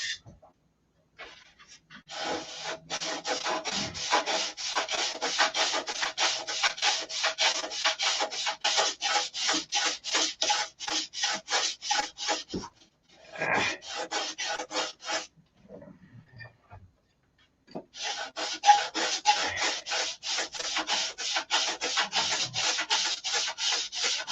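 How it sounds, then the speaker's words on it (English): A power sander works over wooden doors, a rapid raspy scrubbing in long runs with short pauses, close and fairly loud, with no talking. "Oh, we got this sander here."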